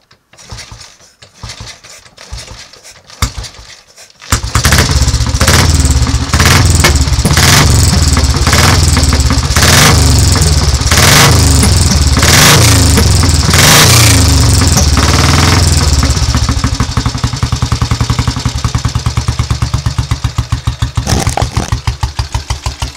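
A Royal Enfield cafe racer 350 motorcycle with no choke, carburettor tickled, starts after a few seconds of quiet cranking and then runs loud and close with throbbing idle and repeated revs that settle toward the end.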